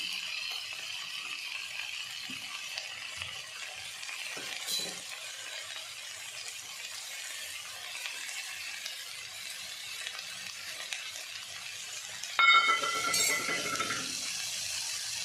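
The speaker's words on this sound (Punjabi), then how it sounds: "ਪਿਆਜ਼ਾਂ ਦੇ ਨਾਲ ਫਰਾਈ ਕਰਾਂਗੇ" Steady hiss of potatoes and cluster beans frying with onions in a pan, sizzling close and moderately loud throughout, with a brief clink or scrape of a utensil near the end.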